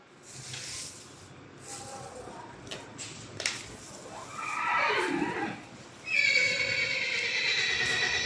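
A horse being fed neighs and whinnies loudly nearby, with a couple of strong calls, snorting and hoof clops, over an outdoor background with some quiet voices.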